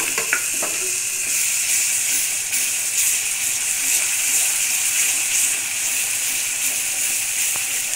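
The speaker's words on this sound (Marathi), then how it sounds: "नंतर टोमॅटो पेस्ट, सर्व मसाला व्यवस्थित भाजून घ्यायचा" Tomato paste and spice masala fry in oil for a fish curry, giving a steady, fairly loud sizzling hiss with occasional soft stirring clicks.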